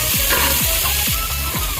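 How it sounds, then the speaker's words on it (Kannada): Whole spices, black pepper, cinnamon sticks and cloves, frying in a pan for sambar, giving a steady close sizzle with repeated stirring scrapes. "ಮೆಣಸು, ಒಂದು 2 ಚಕ್ಕೆ, 8 ಲವಂಗ ಹಾಕಿ ಅದನ್ನು ಫ್ರೈ ಮಾಡ್ಕೊಳ್ಳೋಣ ನೋಡಿ."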